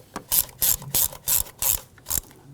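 A ratchet tightening bracket screws on an Audi S4 rear wheel hub, seven quick bursts of loud clicking in a fast uneven rhythm, close up with no talk.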